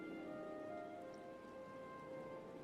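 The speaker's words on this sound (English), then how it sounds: "Thank goodness it's already raining." Steady rain falls in the video game Final Fantasy XIV, a soft continuous patter spread evenly across the clip alongside sustained tonal background music, with no voices.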